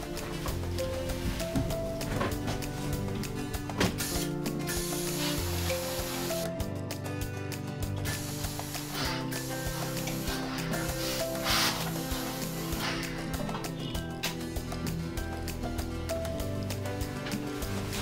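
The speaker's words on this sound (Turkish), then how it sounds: "Tekrar bir en son üzerinden ütü geçeceğim." A steam iron pressing a freshly sewn pillowcase gives off soft hissing puffs of steam and dry rubbing strokes across the fabric, fairly quiet and continuous over a busy room background.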